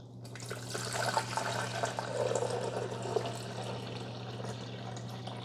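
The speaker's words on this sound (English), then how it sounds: "Now I'm going to fill the rest with pure water." Tap water running steadily into the reservoir of a Farberware Dual Brew 12-cup coffee maker during vinegar descaling, a continuous close splashing fill with a low electrical hum underneath, no talking.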